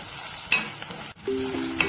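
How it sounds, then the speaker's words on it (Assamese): A spice mixture of ginger, garlic, onion and turmeric fries in a pan, with a soft steady sizzle and brief scraping stirs from a small spoon, close and brief. "গোটেই মিশ্ৰণখিনি আমি ভালদৰে ভাজি আছোঁ।"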